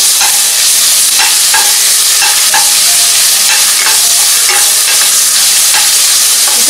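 Crushed garlic, ginger and green chilli sizzle loudly in a pan, a close continuous hiss broken by regular spoon scrapes as the mixture is stirred, with no talking.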